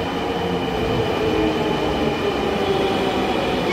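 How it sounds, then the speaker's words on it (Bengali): A metro train pulls into a station platform, a steady loud rumble of wheels and motors with faint squealing and clatter filling the whole stretch, no voices. "এই আমাদের পল্লবী ট্রেনটাও চলে আসছে"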